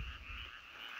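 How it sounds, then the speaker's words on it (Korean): Frogs croak in a quiet rural mountain valley among planted fields, forming a faint, steady chorus with a continuous, distant trill and no other sounds. "이 개구리 우는 소리가 들리고"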